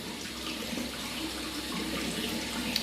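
Tap water runs steadily into a sink while facial cleanser paste is rinsed off, a continuous close hiss and splash with no talking.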